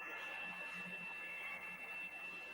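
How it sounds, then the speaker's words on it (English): A vacuum cleaner drones steadily in the background, a constant whirring hum with a thin high whine that stays level throughout. "is that a vacuum cleaner? That's such a fascinating sound."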